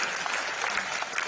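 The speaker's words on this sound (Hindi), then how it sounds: "आप ताली वाली बजा करके बता सकते हैं।" An audience at a Madhya Pradesh Chief Minister's event for Loktantra Senani claps, a dense, steady burst of applause heard fairly close, with no other sound standing out.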